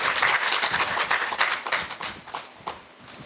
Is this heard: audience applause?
yes